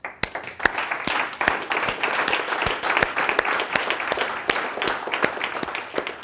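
An audience at a DJ fundamentals workshop applauds, a dense wash of many hands clapping with sharp individual claps standing out, sustained and fairly close throughout.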